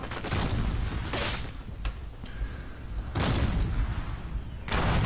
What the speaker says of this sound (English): this is under heavy artillery fire